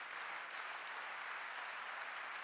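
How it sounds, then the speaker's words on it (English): A home crowd at the 2015 Polish Open table tennis final applauds continuously, a dense, even patter of many hands clapping, fairly distant and faint. "They've got home crowd supporting them."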